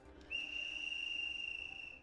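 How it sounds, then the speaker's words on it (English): A single sustained high whistle in the video game Hakuoki: Edo Blossoms, starting abruptly and holding steady at a clear pitch for nearly two seconds, fairly quiet and alone over a soft background. "I heard another whistle, and this time, the sound came from a closer vicinity than before."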